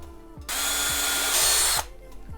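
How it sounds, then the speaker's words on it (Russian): A power drill bores a hole through a wooden bar, a short burst of high, whining grinding of just over a second, framed by quieter motor whir before and after. "Переднюю часть мы просверлили."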